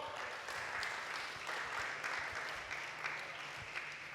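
A church congregation applauding, a steady, fairly faint wash of many hands clapping at some distance, sustained throughout without a clear rise or fall.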